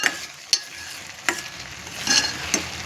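Fasting upma being stirred in a pan after chili, salt and sugar go in, with a few sharp scraping strokes over a low steady sizzle, close and alone.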